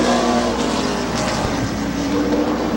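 Race cars at Midvale Speedway make a dense, loud engine roar that swells and blurs as the pack goes by, continuous for the whole moment.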